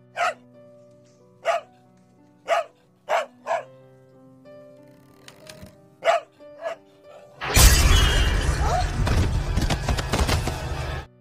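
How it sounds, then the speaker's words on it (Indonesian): A pet dog named Lucky barks in a series of sharp, evenly spaced yaps indoors, then a loud crash and clatter of something falling and breaking takes over and fills the rest. "anjing peliharaannya yang ia beri nama Lucky yang terus menggonggong seolah melihat sesuatu dari sebuah ruangan"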